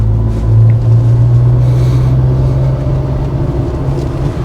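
A low-mileage Mk2 Ford Escort 1600 Ghia engine drones steadily from inside the cabin while climbing a hill, a low constant rumble with a faint hum, pulling along without pause.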